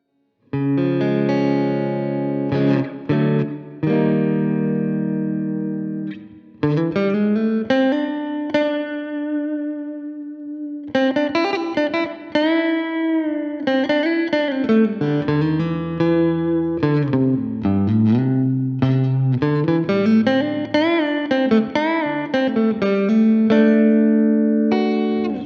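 A guitar with a clean tone on the middle pickup plays single notes and chords for about 25 seconds, loud and close, with bright ringing overtones and short pauses between phrases.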